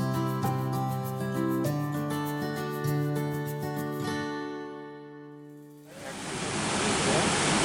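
Waterfall beside the mountain road to Zuluk in East Sikkim, a broad continuous roar of rushing water that swells in loudly after a quieter passage, steady and close.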